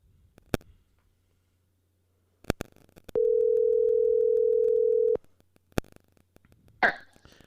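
A steady telephone dial tone plays for about two seconds while a guest is phoned, framed by sharp clicks and a brief cough-like burst near the end.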